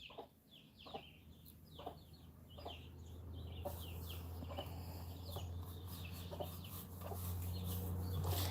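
A hen raising her chicks clucks repeatedly while the chicks peep in high, quick chirps throughout, over a steady low hum in the background.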